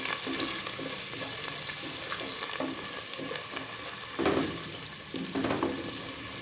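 Fried green chilies and chopped coriander in a pan sizzle steadily while being stirred, with a louder burst of frying as boiled lentils go in, all close and continuous.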